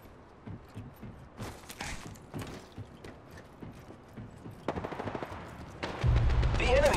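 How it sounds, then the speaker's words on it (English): Enemy gunfire crackles in the Apex Legends video game, with bursts of rapid automatic shots and scattered single cracks at mid distance that grow denser and louder toward the end. "The enemies are shooting at me."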